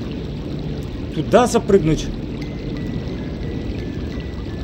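Water rises in American McGee's Alice, heard as a short gurgling, pouring burst under a man's speech, then a steady low background wash.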